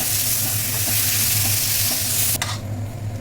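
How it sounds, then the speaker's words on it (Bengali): Boiled chickpeas being sautéed and mashed with a ladle in a hot pan for chole bhature sizzle and hiss steadily over a low hum, then a sharp scrape cuts the sizzle short near the end. "চানাকে আমি কষে নিয়ে একটু হাতার উল্টো পিঠ দিয়ে একটু ম্যাশ করে নিচ্ছি"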